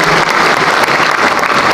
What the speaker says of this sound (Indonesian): Tepuk tangan sekali lagi buat Hanura.